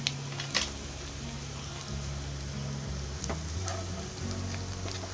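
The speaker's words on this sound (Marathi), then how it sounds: "हा कांदा आहे ना चांगलं गोल्डन ब्राऊन होईपर्यंत तळून घ्यायचा आहे." Onion frying in a pan on high heat with a pinch of salt, a steady close sizzle with faint stirring scrapes and occasional pops, no talking.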